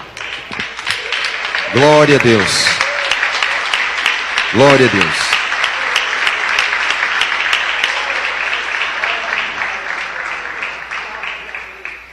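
Church congregation clapping hands in praise, a steady loud patter of many palms running throughout, while a voice speaks and exclaims over it twice.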